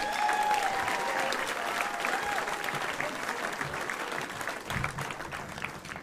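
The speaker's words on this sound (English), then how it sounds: "Put your hands together for Patrick Ramirez, everyone." A stand-up comedy audience claps steadily and fairly loudly throughout, a dense wash of applause that eases slightly toward the end.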